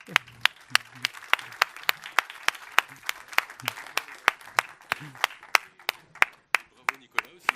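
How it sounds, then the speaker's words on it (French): An audience at an awards ceremony gives steady applause of sharp, distinct claps, spaced and fairly close, with a voice briefly heard in the background. "Merci beaucoup, on peut les applaudir."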